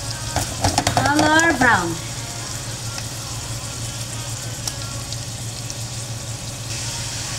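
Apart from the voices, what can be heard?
chicken and beef sizzling while frying for sisig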